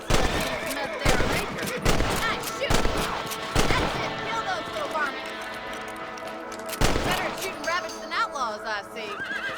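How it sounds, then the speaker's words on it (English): Rifle shots aimed at rabbits in the Red Dead Redemption video game: several sharp, loud cracks spaced irregularly through the clip, layered over game music, horse whinnies and hoofbeats. "Get your rifle out. It's about time these little things met their maker."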